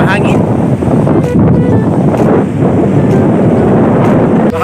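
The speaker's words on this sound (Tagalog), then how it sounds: "Hangin, mahangin." Strong wind buffets the microphone on a sea wall along the coast at Cateel, Davao Oriental, a loud, continuous roaring rumble with gusts, with a voice faintly under it.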